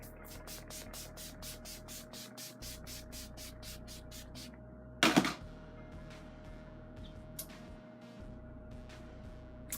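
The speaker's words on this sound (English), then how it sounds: "This is the Mary Kay Makeup Finishing Spray" A short, loud burst of Mary Kay Makeup Finishing Spray, a setting spray, misted onto a face, standing out once against steady background hum and faint clicking.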